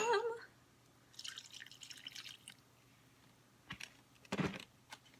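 Succulent plants being watered indoors: two spells of dripping and splashing water, the second briefer and louder, separated by quiet room tone.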